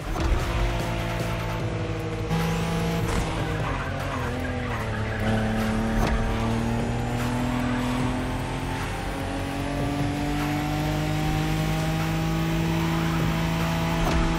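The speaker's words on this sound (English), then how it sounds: "The Skyline is an icon. It's a powerful car that takes skill to control." Nissan Skyline engine driving in The Crew Motorfest racing game, a loud sustained engine drone with rising and falling pitch through gear changes, plus tire squeal and skidding, no voices.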